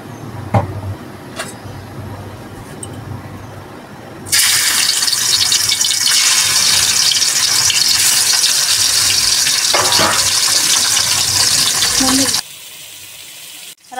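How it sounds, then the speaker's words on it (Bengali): Pieces of hilsa fish frying in mustard oil: a loud, steady sizzle bursts in suddenly after a few quiet knocks and holds for about eight seconds before cutting off abruptly. "মাছ ভেজে নেব।"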